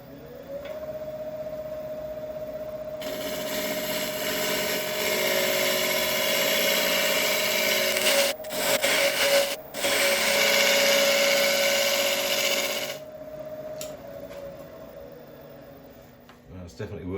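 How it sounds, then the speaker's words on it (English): A carbide tool cutting resin on a wood lathe gives a loud, steady hissing scrape over the motor's constant hum. It runs for about ten seconds, breaks briefly twice, then stops, leaving the motor hum. "I'll just quickly go over this area again with a carbide, just so we can compare the differences between the two"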